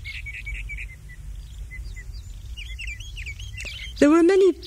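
Small birds chirp and tweet in short bursts over a low rumbling background, followed near the end by a louder, closer call.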